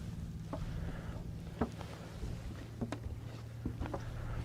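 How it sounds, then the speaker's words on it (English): Water gurgles and splashes faintly at the bow of a moving sailboat, small irregular slaps over a low steady hum. "Sometimes you can hear the water gurgle on the bow."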